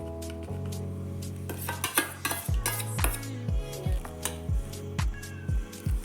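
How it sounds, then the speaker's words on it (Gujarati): Melted jaggery added to a millet flour mixture with fenugreek and stirred: a close series of metallic spoon scrapes and clinks against a bowl, falling into a steady stirring rhythm, with a low hum underneath and no talking. "ગોળ ઓગળી ગયો છે હવે એને આપણે અંદર એડ કરી દઈશું"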